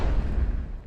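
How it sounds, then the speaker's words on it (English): Whoosh sound effect: a brief, dense burst of rushing low rumble that fades quickly within a second, heard alone. "I love a good whoosh."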